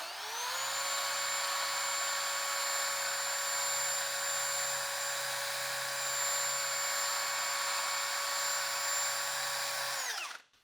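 A drill spinning a red buffing pad adapter against a plastic part gives a steady, high, whining tone that holds for about ten seconds and then winds down at the end.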